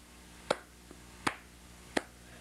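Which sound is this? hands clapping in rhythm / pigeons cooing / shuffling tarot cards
hands clapping in rhythm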